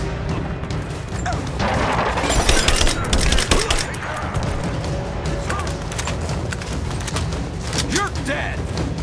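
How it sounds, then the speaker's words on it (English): Assault rifle fire in Rise of the Tomb Raider, a loud, sustained spray of shots and impacts packed tightly across the whole stretch, with game noise and a voice talking over it. "Assault rifle, about time."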